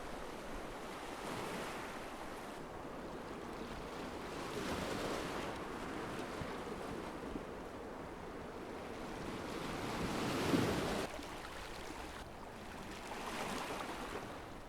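Ocean waves wash and break steadily in a bay along the Albanian coast, a continuous broadband surf with swells rising and falling every few seconds and a stronger surge near the end, with some wind noise and no voices.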